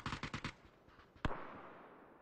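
A quick burst of rapid gunshots, then a single sharp shot with a fading echo, fairly quiet and distant.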